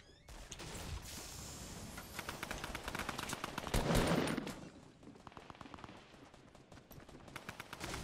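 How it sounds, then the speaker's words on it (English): A drum gun fires in Fortnite with rapid bursts of close, crackling automatic gunfire, one heavier blast in the middle, and more short volleys trailing off afterward. "Oh my god, I got a fucking drum gun."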